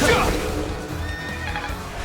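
A horse in the video game Fire Emblem: Three Houses lets out a loud, close neigh at the start, followed by softer game sounds and a trailing whinny.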